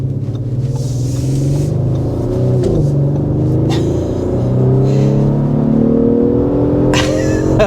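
A 2024 Audi SQ5 engine pulls hard under acceleration, its loud, smooth growl climbing in pitch through gear changes, heard continuously and close.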